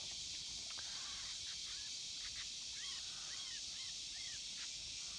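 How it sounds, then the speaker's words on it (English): Mockingbirds squabble somewhere in the distance by a pond on a hot summer day, giving a handful of faint, scratchy rising calls over a steady wash of hissy outdoor noise. "Oh, I hear birds fighting with each other."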